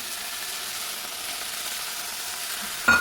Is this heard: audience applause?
no